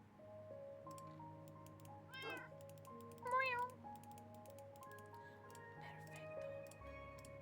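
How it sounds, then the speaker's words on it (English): A cat in the room gives a couple of short, faint meows over a quiet, steady background of soft ticking and light clicks, with a low hum underneath; any purring stays buried and is hard to pick out. "I love the little kitty sounds. You can hear the purrs?"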